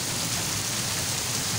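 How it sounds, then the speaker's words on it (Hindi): Very heavy rain pours down at night, a loud, dense and unbroken hiss of downpour close by that holds steady throughout, with no voices. "और बहुत बहुत तेज़ बारिश लगी हुई है"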